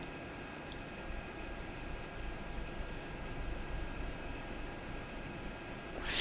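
A jet airliner's engines roar steadily at takeoff in the Prepar3D flight simulator, a broad, continuous rumble with a thin high whine on top. The sound swells slightly near the end.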